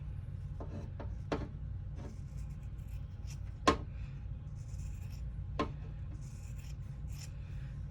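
Scissors trim fabric about a quarter inch around an in-the-hoop embroidered wallet, giving a few sparse, soft snips and rubbing sounds over a steady low hum.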